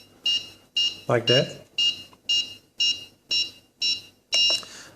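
A Nihui U807 toy drone remote control gives a series of about nine short, sharp electronic beeps at a steady rhythm, close and clear, with a brief spoken phrase cutting in near the start.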